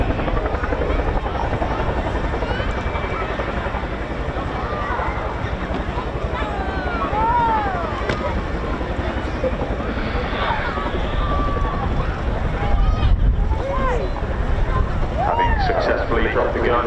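Helicopter manoeuvring forward and down to drop a gun for a Land Rover team at the RAF Cosford air show, a steady loud rotor roar throughout, with wind buffeting and faint voices underneath.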